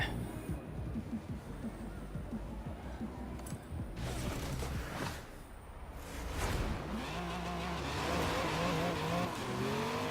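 A muscle car's six-cylinder V6 in Forza Horizon 3 revs and drops through shifts. There are harmonic sweeps, tire noise and a dip in the middle before it builds again toward the end, with some talk partly heard over it.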